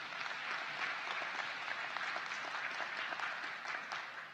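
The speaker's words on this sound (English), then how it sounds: "Please give all of those individuals and organizations a round of applause." Steady, distant applause from a commencement audience fills the hall, even and unbroken throughout, with no voices rising above it.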